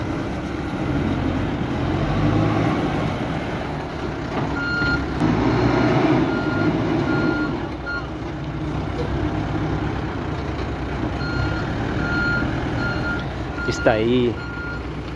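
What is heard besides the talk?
water tanker truck reversing with beeps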